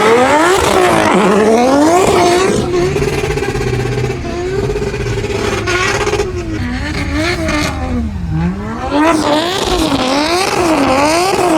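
A drift car on a wet track in Riga, Latvia, revs hard close by, its engine pitch sweeping up and down through rapid throttle blips and long wails for over ten seconds.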